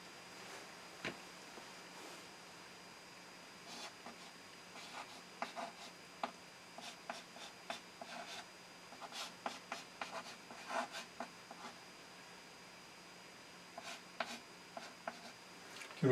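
Pen strokes scratching out a math question by hand: quiet, intermittent bursts of scribbling with short pauses between words, close and alone with no talking.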